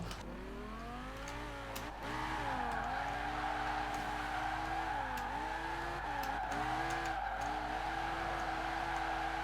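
In Forza Horizon 4, a car drifts through a full 360-degree spin, its engine droning steadily while tires squeal in repeated rising and falling sweeps, loud and continuous with no talking.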